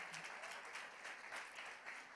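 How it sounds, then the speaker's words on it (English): Church congregation applauding, a soft, steady patter of many hands clapping at a distance, heard alone without talk. "Clap your hands for them, y'all."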